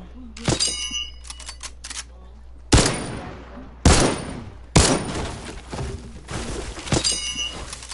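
Loud game gun being tested in a video game, fired in several heavy blasts, each followed by a crackling burst, loud and close with no talk.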